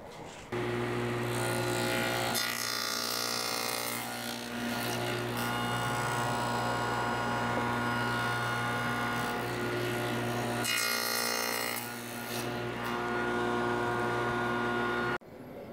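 A table saw on a crosscut sled slices through drawer front and back boards in a woodshop, a loud steady whine with two rising cutting surges, running alone and stopping sharply at the end.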